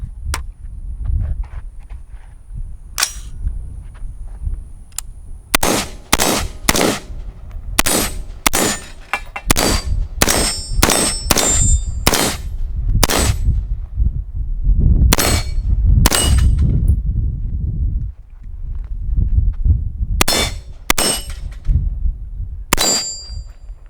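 An AR-15 rifle fires a 30-round PMag in loud, sharp shots, sparse at first and then in rapid irregular bursts with short pauses, each report ringing with a metallic clang over a rumbling outdoor background.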